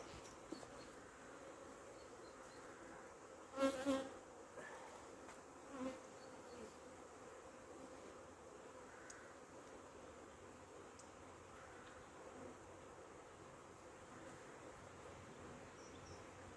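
Honeybees buzz around open hives during an inspection, a faint steady hum with a brief louder burst of wing noise near the start.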